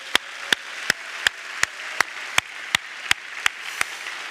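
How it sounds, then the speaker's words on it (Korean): Audience applause at a church summer camp worship service, a broad wash of clapping with steady, evenly spaced sharp claps cutting through about every third of a second, sustained throughout with no talk. "자, 그러면 우리 모두가 이분들을 위해서 큰 박수 한번 쳐줍시다"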